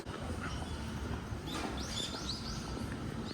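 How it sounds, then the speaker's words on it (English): Faint, high bird chirps and short whistled calls come through over a low outdoor rumble by a river on a spring morning in Nakameguro, Tokyo, scattered across the last couple of seconds. "can hear some birds chirping."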